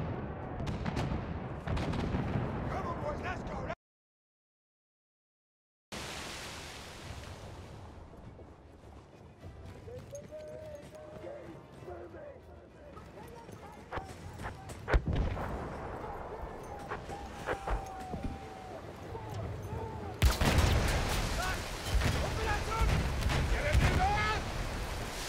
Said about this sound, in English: Savaş gemileri böyle bombardıman yapıyor.